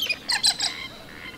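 Black-tailed native hen of Australia calling in a metropolitan area, several short harsh squawks in quick succession, fairly near, followed by fainter trailing notes.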